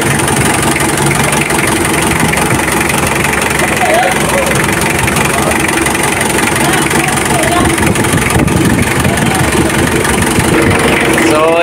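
A car engine idles steadily while warming up, a dense, constant rumble close to the microphone with a vibrating radiator, and a voice speaking over it.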